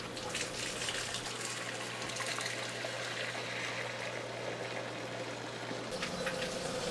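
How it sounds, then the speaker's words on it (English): Water spilling steadily into the overflow of a coral frag tank after a new fill valve is opened, a continuous close rushing gush with a low hum underneath and no voices. "opening the new fill valve allows water to begin to spill into the overflow"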